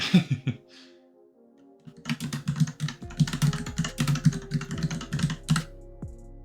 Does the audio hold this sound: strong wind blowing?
no